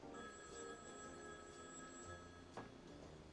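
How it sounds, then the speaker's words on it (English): A telephone rings with a faint, steady electronic bell tone that holds throughout the short stretch, heard alone without talk. "the phone rings."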